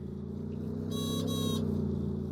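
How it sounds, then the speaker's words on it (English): A short electronic car horn honk, about half a second long with a brief break, sounds over the steady hum of a small-wheeled car engine from the Minecraft Automobility mod. "And it honks when it's near you"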